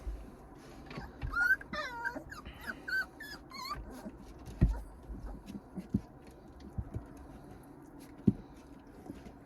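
West Siberian Laika puppies whimper and whine in high, wavering cries, with brief yips and small scuffles among them, close by and soft, with no talking.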